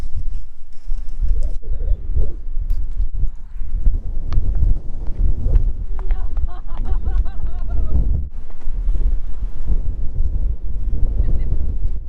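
Wind gusts over an outdoor microphone on a sunny, warm day as a low, continuous rumble, with occasional bird calls and honks from geese or pigeons rising above it.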